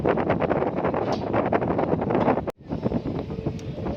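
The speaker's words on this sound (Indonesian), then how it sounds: "anginnya kencang, sejuk seperti itu" Strong wind buffets the microphone high on top of a 100-metre SUTT transmission tower, loud and continuous with gusty roaring surges and a brief dropout midway, no speech.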